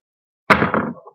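Three handmade coil loads drop onto a countertop in one quick clatter of hard knocks and bounces, near and fairly loud, settling into a few faint rattles within about half a second.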